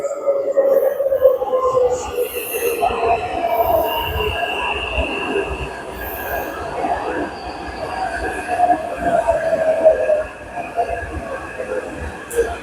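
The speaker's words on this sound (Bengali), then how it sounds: "ওই যে আমাদের ট্রেন আসছে" A train rumbles into a station in Taiwan with a steady roar and high metallic wheel squeals drawing out over several seconds, with a crowd murmuring on the platform nearby.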